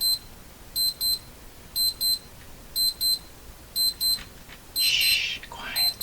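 An electronic device beeps in quick double pulses, repeating steadily about once per second, followed by a faint whisper.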